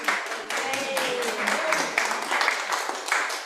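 Audience applause during an Eco Shabbat morning service, a steady, dense wash of many hands clapping that holds evenly for a few seconds without pause.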